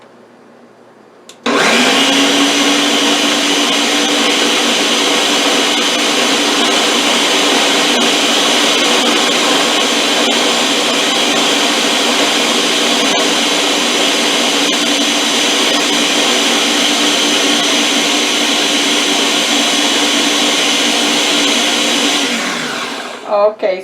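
A kitchen blender on its boost setting purees cooked beans into a mashed consistency, starting abruptly and running as a loud, steady whir for about twenty seconds before winding down and stopping.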